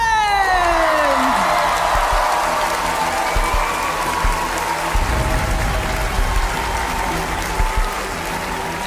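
Pageant audience at a male pageant final show gives a sustained, loud round of applause with whoops and cheers, a steady wash of clapping, and a falling whistle-like tone at the start.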